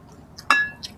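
Drinking glasses of water meet in a single bright clink during a toast at a meal, ringing briefly before fading, with faint clatter just before and after.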